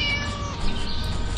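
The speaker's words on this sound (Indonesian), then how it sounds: "Ah, itu suara kucing." A cat meows in a single drawn-out, wavering cry in the video game Scary Teacher 3D, close and fairly loud over a dense background.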